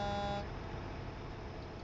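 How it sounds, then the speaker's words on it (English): A truck horn in American Truck Simulator blares steadily and loudly for about half a second, then cuts off, leaving a low rumbling engine drone that continues alone. "What are you honking at me for?"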